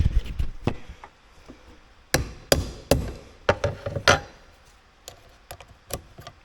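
Hammer blows on a Ford F250 7.3 diesel Powerstroke with a crank-but-no-start fault, a dozen or so sharp close metallic strikes in irregular bursts of two and three, with no talk.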